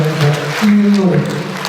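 Applause from an audience at an award ceremony for a Khakas song project, as a commemorative statuette is presented, steady and moderately loud under a voice.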